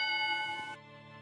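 A single bell strike tolls with a bright metallic ring and a sustained shimmering decay that fades after under a second, fairly clear and heard alone without voices.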